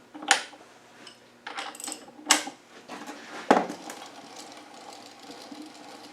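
A bicycle axle hub being spun by hand, with a few sharp metallic clicks and knocks over a low, steady whirring rattle that carries on in between.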